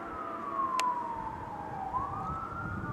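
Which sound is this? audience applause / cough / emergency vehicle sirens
emergency vehicle sirens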